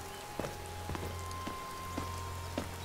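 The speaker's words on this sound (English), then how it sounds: "Ugh, this rain." Rain falls in Skyrim as a steady, quiet hiss of drops, with a low hum underneath and a few soft, regularly spaced thuds like footsteps.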